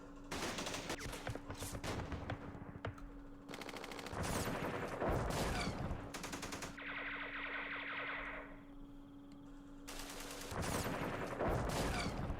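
Gunfire in the wargame Campaign Series Vietnam comes as loud bursts of rapid automatic shots with echoing, distorted crackle, broken by short gaps and a steady low hum in between.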